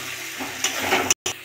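Small fish and vegetable stems fry with turmeric, chilli, coriander and cumin powder in a pan, a steady close sizzle broken by stirring scrapes and one brief dropout near the end.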